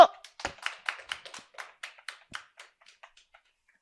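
A handful of people at a Korean teachers' exam strategy seminar clap briefly after a speaker's remark, a short burst of separate claps that thins out and fades over a few seconds, with no talk over it.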